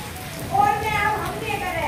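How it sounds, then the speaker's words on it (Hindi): Heavy rain pours down steadily in Delhi, heard from a sheltered spot beside a room, a continuous broadband wash with a brief louder swell partway through and a faint voice in the background. "और बारिश देखिए कितनी तेज हो रही है"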